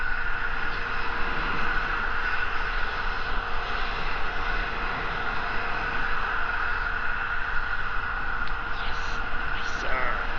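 Rocket launch of the JAXA HTV-9 cargo mission to the ISS, heard as a steady, broad roaring rumble that holds evenly throughout, distant and continuous with no talk.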